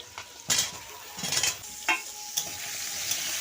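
Diced potatoes and papaya fry in a pan, a soft steady sizzle punctuated by several sharp scraping strokes of a spoon stirring the mixed vegetables.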